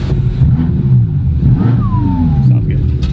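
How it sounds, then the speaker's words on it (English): A BMW M6 engine revs up loud and close under a steady low rumble, with one rising-then-falling rev sweep in the middle of the short burst. "Let's rev it."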